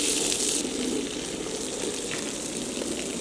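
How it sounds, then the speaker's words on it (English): Steady water spray wetting down an Oriental rug in a wash pit, a close, continuous hiss that stays loud and even throughout with no pauses. "we're going to go ahead and wet it down."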